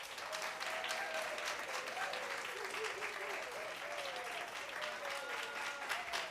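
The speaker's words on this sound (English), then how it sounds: "So let's clap for Patrice." Steady audience applause at a Voices for Vista 2023 event honoring Patrice, a dense wash of many hands clapping throughout with a few raised voices and whoops mixed in.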